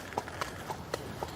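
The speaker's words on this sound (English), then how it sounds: "If you're on a horse like this first thing in the morning" Horse hooves clip-clop at a steady walking pace on hard ground at Buckingham Palace in early morning, with about five distinct, evenly spaced strikes at moderate distance.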